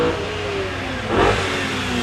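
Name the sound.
race car accelerating at sprint event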